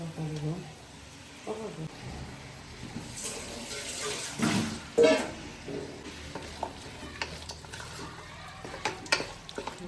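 Chicken pieces are worked into masala in a pot for kappa biriyani, giving soft wet squelching and scraping in uneven bursts close by, with a voice talking over it.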